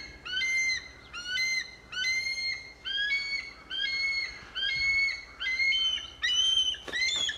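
An adult bald eagle calls from a yard tree near its fledgling, giving a series of about eight high, chattering whistled bursts in steady rhythm, loud and clear with no talking over them.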